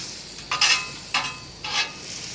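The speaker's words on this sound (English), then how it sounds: "let's put a little oil down and then a dollop of butter" Oil and a dollop of butter hitting a hot flat top griddle, three short bursts of crackling sizzle over a quiet steady hiss, close and moderately loud, with no talking.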